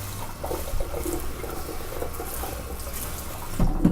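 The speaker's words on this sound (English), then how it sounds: "The core is also easy to clean with running tap water." Running tap water splashes over an energy recovery ventilation core as it is rinsed in a sink, a continuous close hiss and spatter with shifting gurgles and a louder splash near the end.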